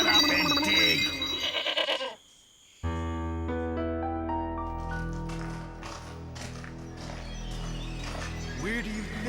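A goat in a cartoon gives a wavering bleat at the start, followed by a brief silence and then tonal music.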